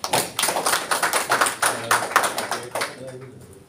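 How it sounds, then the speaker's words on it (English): Audience clapping at a business opportunity meeting at Bunjil Place, a burst of applause from a crowd that rises quickly, holds steady with scattered claps, then thins out toward the end. "Round of applause for Sister Melanie"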